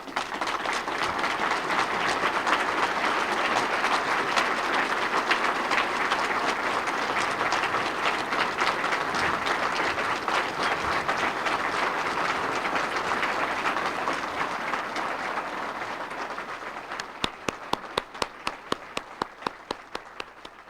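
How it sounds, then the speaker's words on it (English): An audience at the 2005 NEAR Hall of Fame ceremony applauds for a long stretch, a thick continuous roar of clapping that thins toward the end into a few scattered, distinct claps. "so we can give her the applause she"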